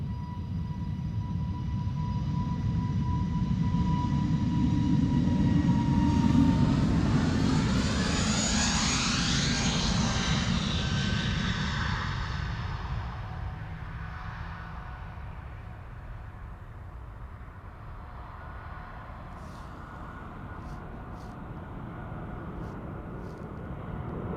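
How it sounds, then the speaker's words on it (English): British Airways Airbus A320neo jet departing Amsterdam Schiphol for London Heathrow, a loud engine roar that builds to a peak and then fades as the aircraft climbs away, with a rising whine audible during the pass. "This is BA A320 Neo to London Heathrow, flight 429"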